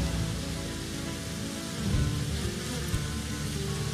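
A dense, steady buzzing of a honeybee swarm, continuous and fairly loud throughout, with no voices.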